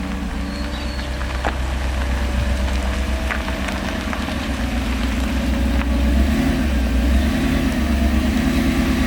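A Mercedes SL500 under restoration drives along French tarmac, its engine a loud steady rumble with road and wind noise rolling continuously throughout.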